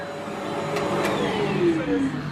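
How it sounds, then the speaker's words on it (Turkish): A household vacuum cleaner runs steadily at close range for a couple of seconds, its whine shifting in pitch as it moves, with brief clicks and a faint voice nearby. "biz böyle süpürge tutalım dedik"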